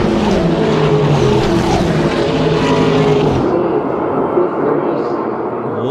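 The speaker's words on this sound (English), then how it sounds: "Loving the sound of these TA2 cars as Ben Mayer leads the train" TA2 Series race cars roar around the track at World Wide Technology Raceway, loud close engine note with a pass-by that drops in pitch as the train of cars heads into turn one.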